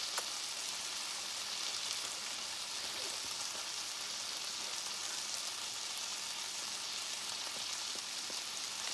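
Steak searing in a pan with its fat rendering, a steady close sizzle and crackle of frying that holds at an even level throughout with no voices.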